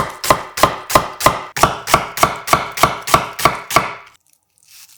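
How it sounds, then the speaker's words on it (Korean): A knife thinly slices a quarter onion on a board, about twelve sharp evenly spaced chops in quick rhythm, loud and close, then quiet. "알싸한 양파 4분의 1개를 얇게 채 썰어주고"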